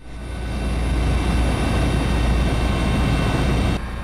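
A steady, loud engine drone of a helicopter in flight, continuous and close, with no voices.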